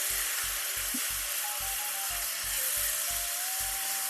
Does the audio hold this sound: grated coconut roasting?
yes